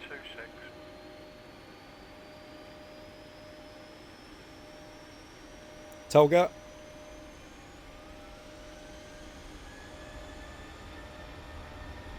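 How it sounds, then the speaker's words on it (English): Boeing 737-800 jet engines spool to takeoff thrust in a P3D flight simulator, a steady broad roar with a rising whine held throughout, a brief voice call cutting in halfway. "Listen to those engines."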